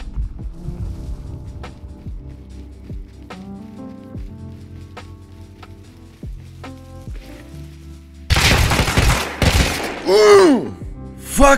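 Gunfire in the video game Rust during a fight on an oil rig, with scattered shots and thuds early on, then a loud burst of dense firing and clatter near the end, under no speech.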